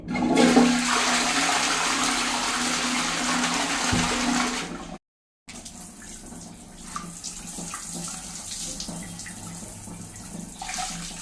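Running tap water, from a borewell supply, rinses a mixer grinder jar: a loud, steady gush for about five seconds, a brief silence, then quieter splashing and rinsing.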